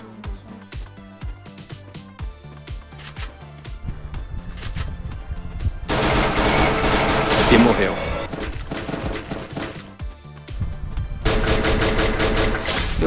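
Video game gunfire in a Brazilian online shooter, with bursts of rapid shots and heavy blasts coming over game music, loudest in two long stretches, while players talk throughout.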